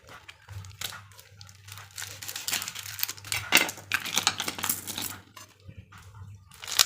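A small packet of red-label carp bait is torn open and emptied, giving loose crinkling plastic, rustling and crisp tapping as the contents pour out, close and fairly quiet with uneven bursts.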